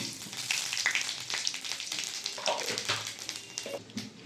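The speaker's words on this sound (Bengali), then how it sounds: "এই তেলের মধ্যে দিয়ে দেবো শুকনো লঙ্কা, দিয়ে দেবো 5 ফোড়ন।" Dry red chillies and Bengali five-spice (panch phoron) tempering sizzling in hot oil for a sour fish-roe fritter curry, a loud, dense crackling sizzle with scattered pops that holds steady throughout.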